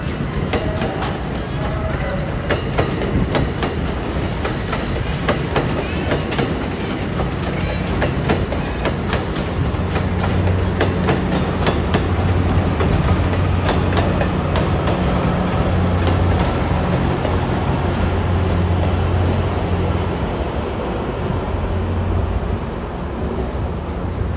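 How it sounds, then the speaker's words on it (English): MARC train 429 from Baltimore Penn Station, hauled by an MP36PH-3C locomotive with a Comet car at the rear, rolls past in a long, loud rumble, with rhythmic clickety-clack of wheels over rail joints and a deep steady drone. "Coming in at 12:28 is Mark train 429 from Baltimore Penn Station."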